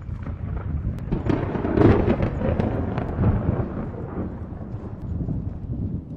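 Thunder from a violent high-altitude mountain thunderstorm in Kyrgyzstan, a low, distant rolling rumble that swells and fades over several seconds amid wind noise.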